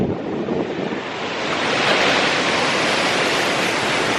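Ocean surf and strong wind on a rocky beach make a loud, continuous broadband roar, waves washing and gusts buffeting the microphone, with no voices.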